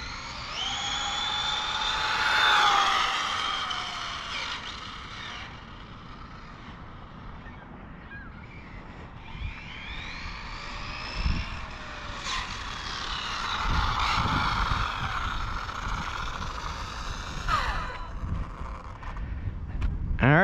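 An Arrma Typhon TLR RC car on street tires makes speed passes on pavement, its high-pitched electric motor whine rising and falling with Doppler sweeps as it rushes past, mixed with wind buffeting the microphone.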